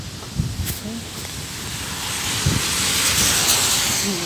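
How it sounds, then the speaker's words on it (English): Strong wind roars and hisses, building louder across the stretch, with a few brief voice sounds beneath the gusts. "It's really, really, really windy."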